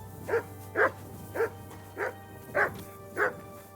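A dog in the medieval video game Kingdom Come: Deliverance 2 barks six times in an even rhythm, each bark short and moderately loud over a low steady background hum.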